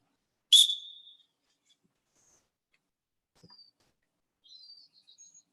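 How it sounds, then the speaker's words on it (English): A single sharp, shrill coach's whistle blast rings out loudly on a football practice field, followed by silence and a few faint, distant chirps. "On the whistle."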